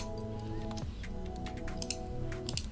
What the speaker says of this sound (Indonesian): Sorry ya kalau keyboard gue berisik nih, mechanical soalnya.